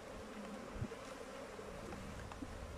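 Honeybees buzz around an opened hive with a dense, steady hum, faint and continuous throughout, with no one speaking.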